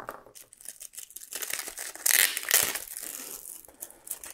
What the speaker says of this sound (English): Alright, I just found a knife. I'm gonna go ahead and cut it open like that.